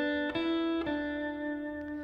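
An electric lead guitar plays a short melodic motif of a few picked notes in a brief phrase, at moderate volume and clear with no talking.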